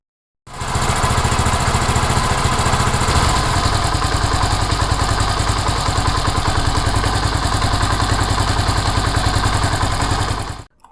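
A Honda CD70 motorcycle engine idles during carburetor idle-mixture adjustment, a loud, close, continuous rapid putter that holds steady for about ten seconds before cutting off, with no voices.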